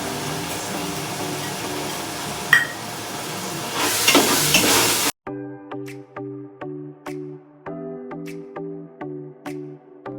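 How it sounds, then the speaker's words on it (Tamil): Tomatoes sizzle loudly as they are sautéed and stirred in a pan for Basmati biryani, the frying hiss swelling for about five seconds before cutting off abruptly into a repeating electronic tune. "தக்காளி இந்த மாதிரி நல்லா வதங்கணும், நல்லா கரையணும்"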